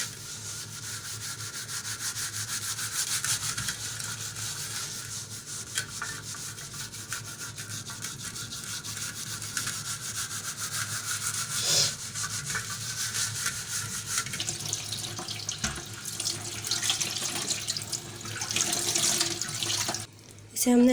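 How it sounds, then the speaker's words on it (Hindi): A tawa griddle being scrubbed with soap under a running tap: steady rubbing and scouring over continuous water flow, close and fairly loud, with a few louder scrapes near the end. "इस तरीके से हम इसे साबुन से अच्छी तरह धो लेंगे ताकि इसकी सारी चिकनाहट साफ़ हो जाए"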